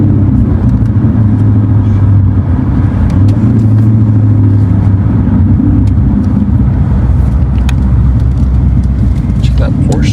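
A Porsche sports car drives on a muddy course during a hide-and-seek chase, its engine a loud, steady low rumble heard from inside or close by, with people talking over it.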